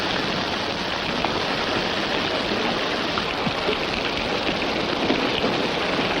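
Heavy, steady rain pours without a break, a dense close wash of drops hitting the ground with no voices or other sounds over it.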